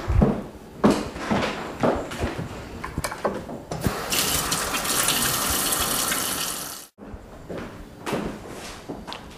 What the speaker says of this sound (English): I'm going to go wash my hands again.